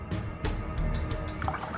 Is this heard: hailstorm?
no